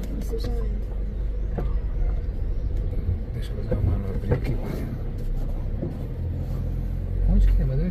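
A car maneuvering on a road in Olaria, Minas Gerais: a steady low engine rumble close by, swelling slightly near the end, while people talk over it.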